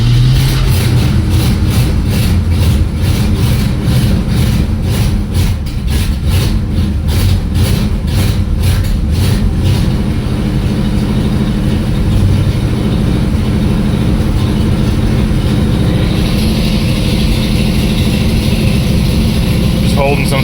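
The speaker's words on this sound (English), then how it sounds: "Just holding some throttle on it right now. Probably have to do this till it warms up." A 1972 AMC Ambassador engine runs cold with throttle held, a loud, steady low rumble close by, with a rapid ticking pulse through the first half that fades into a constant drone.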